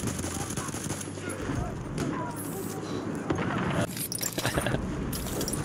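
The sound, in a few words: gunfire from a medic gun in Battlefield 1 video game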